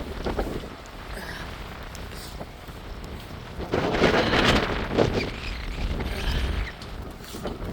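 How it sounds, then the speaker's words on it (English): Wind gusting outdoors on a cold day, a loud, steady roar of buffeting against the microphone that swells stronger midway, with no voices. "It's a bit windy though."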